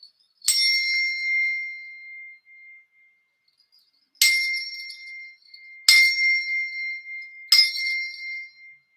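A bell struck four times with a beater, each bright ding ringing out with a long, slowly fading tail; the first strike comes alone, followed by a pause, then three more at steady intervals, all close and without voices.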